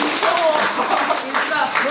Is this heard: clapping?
yes